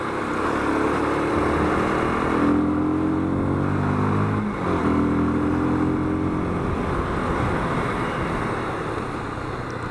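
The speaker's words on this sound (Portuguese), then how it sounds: "Pra dar uma acelerada, ela tá respondendo legal." Honda CB 300 motorcycle engine pulling away in city traffic, a steady loud drone with rising harmonic tones as it accelerates, dipping briefly mid-way before climbing again, surrounded by constant road noise.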